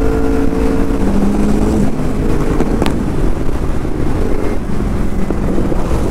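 A young crew's Porsche supercar with a Himachal Pradesh registration, its exhaust revving loud and continuous close by, a steady roar that surges and holds with wind buffeting the microphone throughout.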